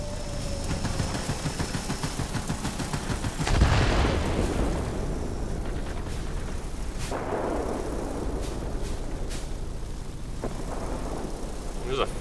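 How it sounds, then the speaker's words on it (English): Bomb blasts in World of Warplanes, a combat flight game: one heavy explosive boom lands early amid steady aircraft engine drone, followed by scattered sharper bursts and cracks, with a voice talking over the action. "Bombs away."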